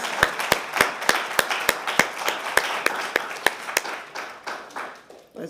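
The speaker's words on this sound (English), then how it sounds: "Let's give him another round of applause." A small audience at an archive awareness event gives a round of applause: distinct, evenly spaced claps ring out close and loud, then thin into softer scattered clapping near the end.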